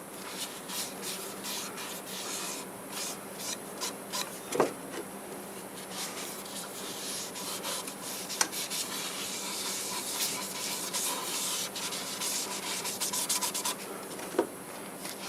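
Steady hissing friction of a cloth rubbing shellac-based sanding sealer onto spinning guava wood on a lathe, continuous with a few faint knocks, close and moderately loud.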